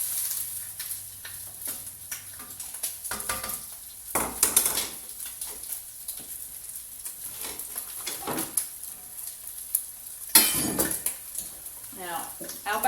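Bacon, tomato and onion sizzle and fry in a pan while a utensil scrapes and stirs, with clinks of cookware and occasional speech over the steady hiss.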